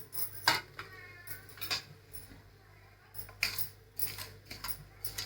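Barnyard millet (bhagar) dry roasting in a pan on a gas stove, with sharp metallic scrapes and clinks of a spoon against the pan in irregular bursts over a low steady hum, close but quiet.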